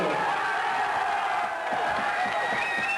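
Large arena crowd at a 1991 world amateur kickboxing championship cheers and applauds as the Moroccan winner is announced, with Moroccan supporters whooping; a dense, sustained roar of voices and clapping fills the space steadily throughout.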